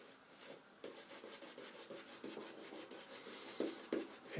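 A shaving brush with a silver tip badger knot scrubs across shaving soap in a steady, close rasping swish, with a few louder strokes near the end and no talking.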